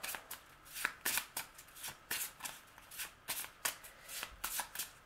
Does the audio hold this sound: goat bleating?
no